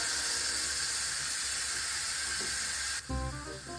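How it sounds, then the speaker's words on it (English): Steam blasting from an Instant Pot pressure cooker's vent after it is switched to venting, a loud continuous hiss that cuts off abruptly near the end. "we're going to flip the sealing vent to venting"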